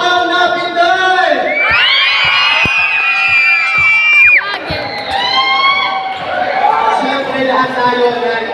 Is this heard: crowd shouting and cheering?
yes